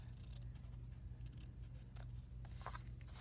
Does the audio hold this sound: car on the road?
no